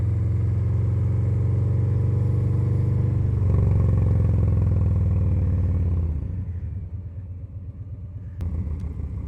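A motorcycle slowing with the clutch pulled in and brakes applied: a loud, steady engine drone close by that drops and fades as the bike decelerates, ending in a softer idle with a couple of brief clicks.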